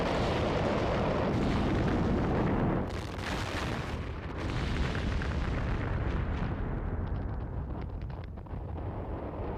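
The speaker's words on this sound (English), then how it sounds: "A series of massive explosions engulf the neighborhoods within a mile radius of the factory." Deep, rumbling blasts from a series of massive factory explosions roll on continuously, with heavy booms and crackling bursts layered over a dense, sustained roar.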